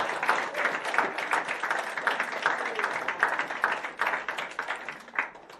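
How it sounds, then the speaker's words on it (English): A wedding crowd breaks into a sustained round of applause following a speech, dense overlapping clapping that fills the room steadily before gradually thinning. "everybody should give Anouska a little round of applause"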